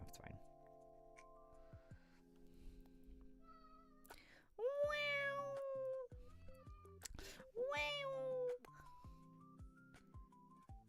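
A house cat meows twice, each a drawn-out, fairly loud whining call a few seconds apart, over faint ticking and soft tonal background sounds.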